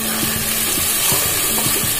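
Pieces of katla fish frying with spices in a pan, a steady loud sizzle with soft stirring scrapes and taps running throughout.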